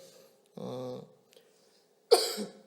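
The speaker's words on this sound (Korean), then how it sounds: "기침 한번 했습니다" Two separate coughs, close by, with a pause between them and no talking.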